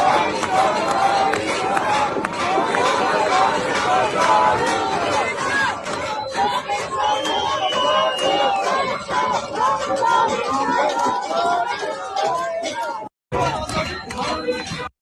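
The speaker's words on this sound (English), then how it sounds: "They're chanting, they're cheering, right?" A large crowd of Iranians in the streets chants and cheers, a dense, loud babble of many voices with rhythmic shouting that continues almost unbroken, cutting out briefly once near the end.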